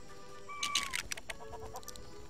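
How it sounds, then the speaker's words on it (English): A chicken clucks in the LEGO Worlds video game, a short burst of several quick, sharp clucks after a brief tone, fairly quiet and alone. "Oh wait, this chicken right here."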